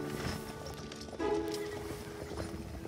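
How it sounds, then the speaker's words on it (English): A horse's hooves clip-clop at a steady walk, close by and fairly loud, with a brief louder thump partway through and no talking. "It's my horse."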